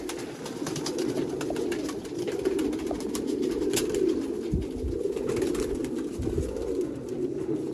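Several high-flying pigeons coo continuously nearby, overlapping soft throaty calls over a steady background hum, with occasional faint flutters.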